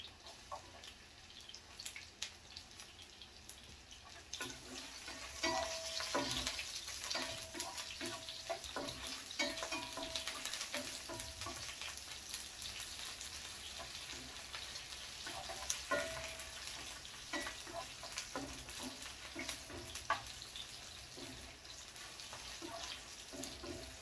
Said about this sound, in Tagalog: Tapos lagay na natin ang ating bawang.